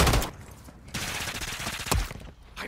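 Rapid gunfire rattles through a Call of Duty Modern Warfare 3 multiplayer match, several dense bursts of automatic fire with sharp cracks, close and loud, separated by brief gaps.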